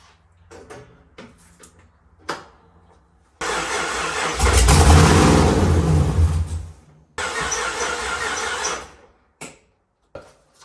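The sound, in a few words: engine started on fuel, idling and revving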